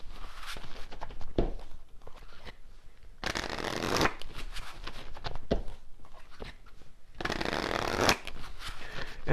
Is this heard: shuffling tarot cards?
yes